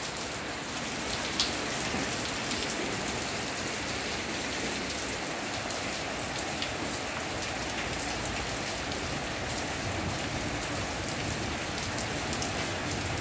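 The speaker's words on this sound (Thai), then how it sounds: "ฝนตกมาชุ่มฉ่ำเลย" Heavy rain pours steadily beside a house, a dense, even hiss of drops striking surfaces that holds at the same level throughout, with no voices.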